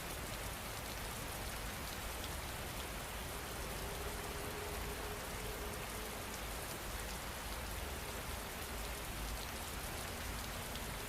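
Steady rain falling on a surface, a dense, even hiss of countless drops that holds at a constant level throughout, with no voices and no thunder.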